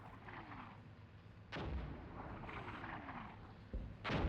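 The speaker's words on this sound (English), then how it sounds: "The incoming artillery is highly frustrating." Incoming artillery fire in the tank-combat video game Armored Brigade 2: heavy booming impacts strike at intervals over a low, steady battlefield rumble, with a sharp, loud blast near the end.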